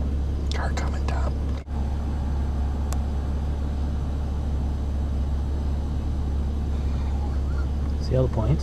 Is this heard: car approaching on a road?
yes